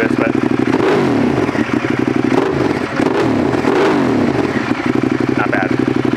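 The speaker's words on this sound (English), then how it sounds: "You can't beat the sound of a Termi." A Ducati Monster 1200S fitted with a Termignoni slip-on exhaust revs repeatedly up and down, a loud, close, rumbling engine note that rises and falls in several blips.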